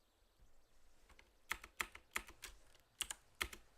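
A computer keyboard is tapped in a short run of about eight quiet, close keystrokes as numbers are typed, irregularly spaced with no talking.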